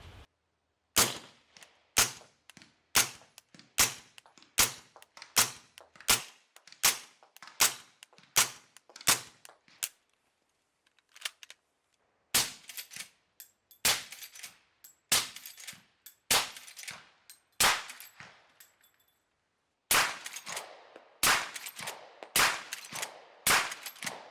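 Shots from a firearm fitted with a SilencerCo Hybrid 46 suppressor, a .46 caliber can, crack out one by one outdoors, with sharp, evenly spaced reports in several strings and brief pauses between groups.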